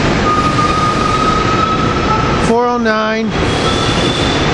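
A SEPTA commuter train of railcars bound for Doylestown sounds its horn once in a brief, loud multi-tone blast over steady rumbling rail noise, while someone narrates close by.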